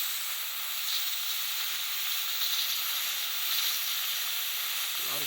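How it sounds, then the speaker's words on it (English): Steam vents hard from an Instant Pot pressure cooker cooking pork tenderloin with potatoes and cabbage, a steady loud hiss that holds without a break for the whole stretch. "I'm going to open up the vent to let steam out"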